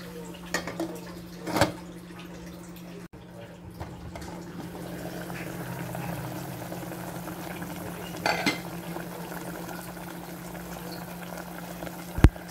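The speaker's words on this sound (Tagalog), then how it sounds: "Magdagdag lang ng tubig para lumambot yung ating karne." Pork stew with jackfruit and pigeon peas simmers in a pot as water is added, a steady bubbling hiss broken by a few clinks of utensil against the pot and a sharp knock at the end.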